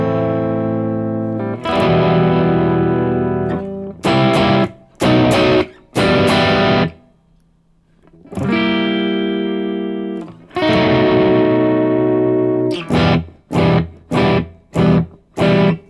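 Distorted electric guitar plays the bridge of a song in long sustained strums, broken by sharp short stabs and a brief pause, with a reverberant effects-heavy tone.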